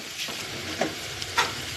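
Dry chili powder stirred into hot mango pickle in a pan makes a soft, steady sizzle, with a few scraping strokes of the spoon standing out close by and no voices.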